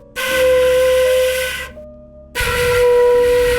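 A beginner holds two long, breathy flute notes separated by a short pause, each with a steady pitch and a strong airy hiss, close and fairly loud, with no speech.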